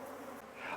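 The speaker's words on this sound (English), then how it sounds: "the sound of the bees around you" Honey bees buzz steadily around a beehive, a close continuous droning hum from many insects with no talk over it.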